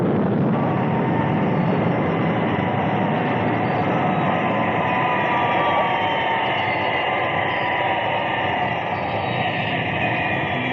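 The Thunderbirds International Rescue aircraft descends vertically to land, a loud, continuous engine roar that holds steady for the whole stretch before easing slightly near the end, with no voices.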